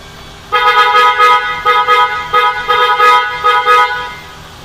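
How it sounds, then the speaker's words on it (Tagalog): A loud PIAA car horn on a Subaru Forester honks repeatedly in short and longer blasts, close by, with a bright multi-tone blare and brief gaps between toots. "testingin na natin ito na yung bago nating busina"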